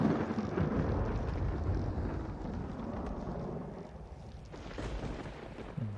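Rumbling thunder in the Skyrim video game, a broad low roar that rolls steadily throughout, loud and close without clear breaks.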